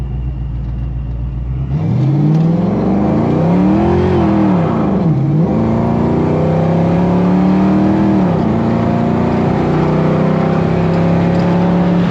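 A car engine idles, then revs up and down through several gear changes as it drives and downshifts, loud and close throughout with a steady mid-range drone and rising and falling pitch sweeps.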